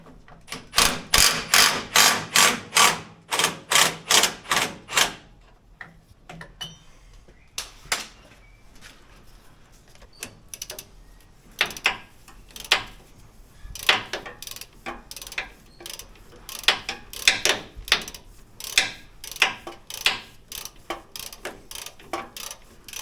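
Ratchet wrench on a long extension turning a power steering bolt on a 2013 Mitsubishi Triton, crisp rapid clicking in repeated bursts of strokes with short pauses between, close and loud, no voices.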